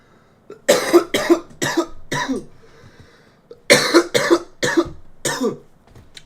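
Two bursts of harsh, raspy coughing after a bong hit, each a quick series of four or five loud coughs, separated by a brief quiet pause.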